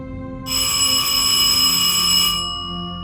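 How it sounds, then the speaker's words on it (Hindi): A bright, steady electric bell rings continuously for about two seconds, then cuts off, leaving a faint hum. "एक दिन सुबह सुबह हॉस्टल की घंटी बजी।"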